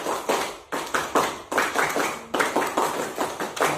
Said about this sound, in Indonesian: Seperti biasa, tepuk semangat.